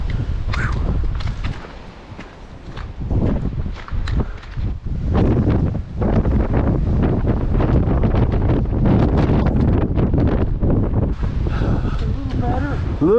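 Strong, cold north wind storm buffets the microphone on the Pacific Crest Trail, a loud continuous roar with gusts and brief lulls, and a person speaks over it.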